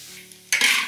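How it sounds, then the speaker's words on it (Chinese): Homemade pickled cabbage dropped into a hot wok to stir-fry dry bursts into a loud sizzle halfway through, after a quiet hum, with scraping of the spatula. "酸菜下锅炒干"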